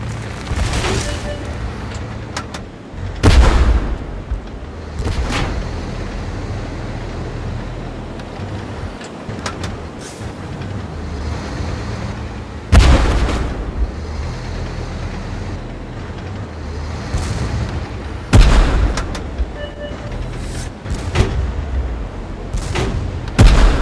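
Tank cannons firing in the video game Tank Force: several heavy booming shots at irregular intervals, loud and close, over a steady low engine rumble.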